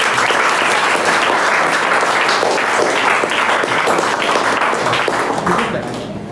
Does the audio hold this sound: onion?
no